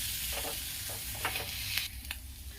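Dry spices roast and stir in a pan while making potato and pea dry curry, a low steady sizzle broken by a few scraping stir strokes, close and fairly quiet with no voices.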